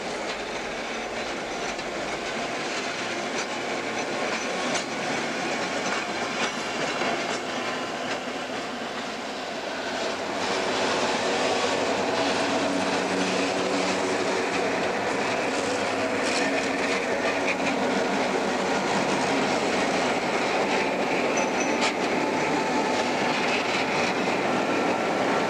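Algoma Central Railway train number 12 hauls log cars on a slow climb, a loud continuous rumble and roar of engine and rolling wagons that builds slightly partway through, with no voices.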